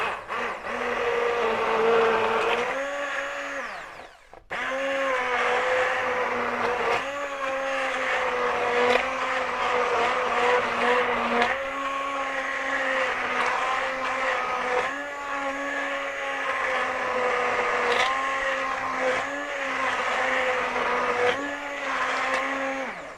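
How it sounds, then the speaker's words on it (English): A blender blitzes carrot and coriander soup on a slow setting, a loud continuous motor drone with pitch dipping and rising, a brief stop partway, then the whir resumes steadily. "I'm just going to blitz this slowly, so maybe a wee bit of noise"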